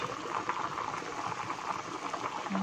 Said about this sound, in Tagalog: Kumukulo-kulo pa siya.